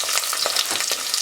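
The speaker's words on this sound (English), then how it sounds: "Let's start frying the green pepper." Green pepper fries in hot olive oil in a pan, a close, dense sizzle with faint stirring scrapes through it and no voices.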